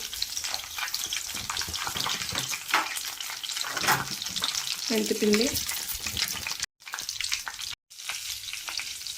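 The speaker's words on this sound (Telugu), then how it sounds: "తాలింపు వేసేసుకుందాం మినపప్పు జీలకర్ర పచ్చనపప్పు అన్నీ వేస్తున్నాను ఇందులో" Urad dal, cumin and chana dal crackle and sizzle in hot tempering oil close up, a steady frying hiss with a few stirring scrapes.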